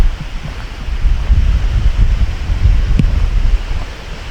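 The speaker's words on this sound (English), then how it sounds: "And the wind showed up." Wind blows hard at night beside Fort Peck lake, a loud, low, gusty rumble buffeting the microphone, with rustling and faint lapping water underneath and no one talking.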